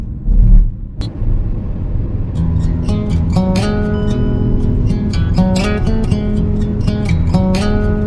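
A car cruises along a smooth, traffic-free highway, a loud steady road rumble inside the cabin, with a thump near the start and tonal chimes or music layered over it.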